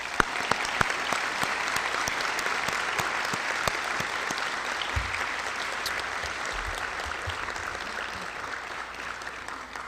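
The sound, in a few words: audience applause at a high school commencement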